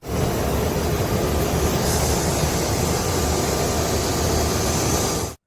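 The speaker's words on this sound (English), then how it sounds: "Here's unamplified video taken from the back of a commuter jet." Cabin noise at the back of a commuter jet: a loud, steady broadband roar of engines and airflow that continues unbroken for about five seconds with no voices.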